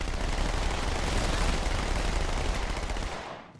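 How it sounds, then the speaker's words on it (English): Two SMGs in Halo 2 Anniversary fire together in a dense, continuous rattling burst, loud and close, holding steady for a few seconds before cutting off abruptly with no talk. "Firing off 2 SMGs,"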